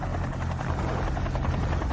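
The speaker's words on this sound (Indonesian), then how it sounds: "Kedengarannya seperti sekelompok jet tempur." A squadron of fighter jets flies overhead, a loud continuous droning roar with pulsing rotor-like texture that holds steady and close from start to finish.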